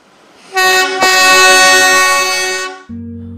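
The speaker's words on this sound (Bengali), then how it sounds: "প্রায় 5 মিনিটের কাছাকাছি দাঁড়িয়ে অবশেষে ঘুম স্টেশন থেকে টয় ট্রেনটি ছেড়ে দিল" A narrow-gauge toy train's horn sounds loudly for about two seconds at Ghum station in the hills, then drops to a lower tone as the train begins to move off.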